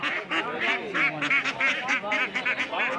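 Ducks quack at a busy Friday village market where many ducks and chickens are brought for sale: a dense, close run of repeated nasal quacks overlapping in quick, uneven bursts.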